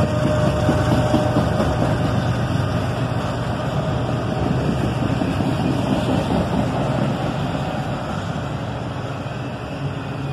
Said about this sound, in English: And a second locomotive humming away to keep the train moving.